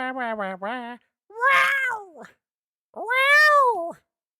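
A cat meows three times, the first a quick wavering series of cries, then two longer drawn-out meows with pauses between, close and clear.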